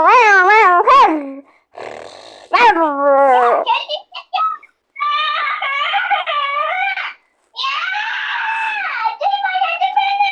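A cat meows repeatedly and loudly, long wavering yowls with short pauses between, close by and alone.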